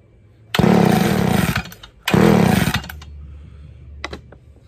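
A vintage Homelite 360 chainsaw roars to life close by in two loud, sustained bursts separated by a brief cut-out, then idles faintly with a couple of small sputters.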